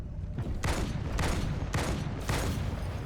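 Shotgun blasts in the video game Halo 2, four loud booming shots in quick succession, each with a short decaying tail, about half a second apart.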